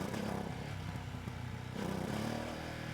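A Ducati Streetfighter V2S motorcycle engine stumbles under wide throttle in first gear, its injection faltering. The rough, uneven note holds for a few seconds, faint and unaccompanied.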